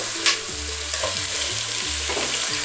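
Savoy cabbage goes into a pan of golden fried garlic and onion, producing a loud, steady sizzle with stirring scrapes throughout, close up and with no voices.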